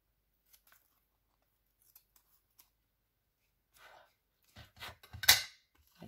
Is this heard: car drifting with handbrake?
no